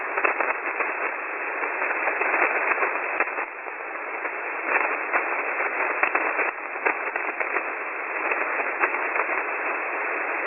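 Crackling static crashes fill a shortwave radio channel, a dense band of hiss broken by irregular bursts. The noise runs loud and unbroken, with no voice coming through.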